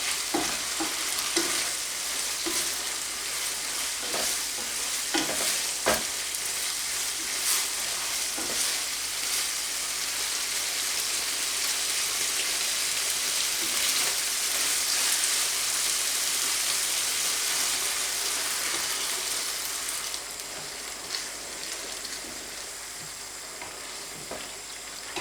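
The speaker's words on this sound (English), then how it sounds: "But keep stirring it." Smoked haddock risotto being stirred in a pan gives a steady, close sizzle with scattered scraping taps of the spoon, running continuously and dropping slightly in level near the end; no one talks.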